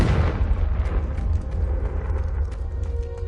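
Magical spell explosions from Bombarda and Confringo in Hogwarts Legacy, a deep rumbling boom that rolls on with scattered crackles and debris.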